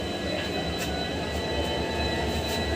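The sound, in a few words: express train running from Guwahati to Nagaon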